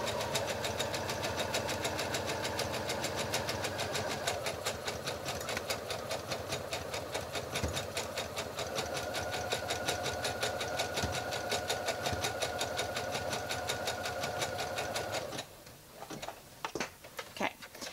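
A sewing machine stitches a garment hem with black thread, a steady fast mechanical whir and needle clatter running for about fifteen seconds, then stopping, followed by a few soft handling clicks.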